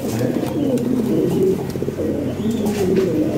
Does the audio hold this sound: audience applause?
no